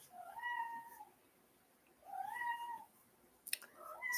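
A house cat meows twice in long, drawn-out cries, fairly close, followed by a short clicking noise and the start of another softer call.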